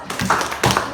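Children in a classroom clap their hands: two short, sharp bursts of claps a half-second apart, close and fairly loud.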